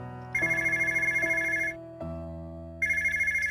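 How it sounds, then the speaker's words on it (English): A telephone rings in a visual novel game with an electronic ringtone: a bright, steady warbling tone repeats in bursts, stops, then starts again. No voices are heard. "suddenly I hear the phone ringing"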